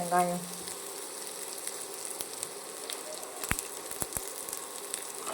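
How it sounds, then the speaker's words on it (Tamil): Onions sauté in a pan with a soft, steady sizzle, broken by a few sharp clicks and taps of a spoon against the pan. "வெங்காயத்தை போட்டு நல்லா வதங்கணும் ஃப்ரெண்ட்ஸ்"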